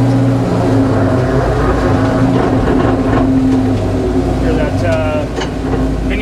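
A 1965 Ford F100 NASCAR Cup truck with a mini spool rear drives with its engine rumbling loud and steady throughout, heard from inside with voices talking over it.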